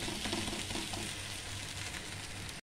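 Moong dal dosa fries in groundnut oil on a pan after flipping, a dense continuous sizzle up close that stops abruptly at the end, with no voices.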